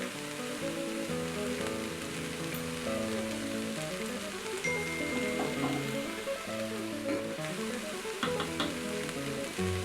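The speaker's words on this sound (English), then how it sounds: "I'm going to set the Instant Pot to the saute function and saute the onions, garlic, carrot, and celery" Onions, garlic, carrot and celery sizzle steadily in an Instant Pot on the sauté setting, a continuous frying hiss throughout, partly masked by music playing over it.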